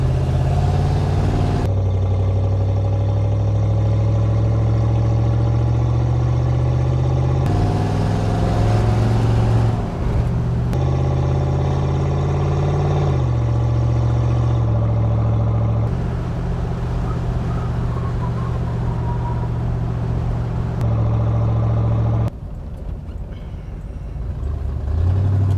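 A 1968 Chevrolet Corvette C3 with worn exhaust needing new mufflers runs close and loud, a deep steady rumble with several shifts in pitch as the revs rise and fall, and no talking.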